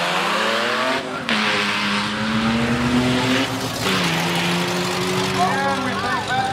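A gutted, lightweight Thunderbird with a supercharged V6 in a cheap-car drag race at Gateway Motorsports, loud engine roaring and rising in pitch with tire noise, under an announcer's commentary.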